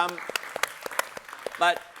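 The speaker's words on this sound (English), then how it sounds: "Farrick's hosting us and deserves a round of applause, I think" Scattered, uneven claps from an audience applauding a venue host at a Garage Band info session, close and fairly sparse, with a voice talking over part of it.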